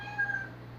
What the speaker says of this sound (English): my cat's going nuts